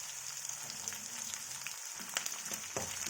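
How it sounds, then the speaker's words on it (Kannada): Garlic, curry leaves and onion fry in a pan, a quiet, steady sizzle with occasional soft crackles and stirring taps, no talking. "ಇವಾಗ ಇದನ್ನು ಸ್ವಲ್ಪ ಫ್ರೈ ಮಾಡ್ಕೊಳ್ಳೋಣ"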